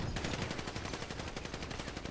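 Rapid automatic gunfire in a video game match on Chamberlain Hills, a fast even burst of roughly a dozen shots per second sustained throughout, loud and close.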